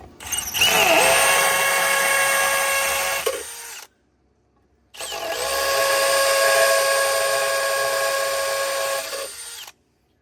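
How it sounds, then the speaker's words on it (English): Two long bursts of loud, steady drilling with a cement drill, a few seconds each, separated by a brief pause, with a high whining grind close by. "So I'm using a cement drill."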